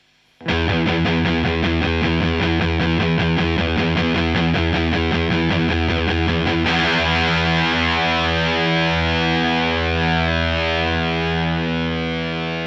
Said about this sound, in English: this is a pretty straightforward octave fuzz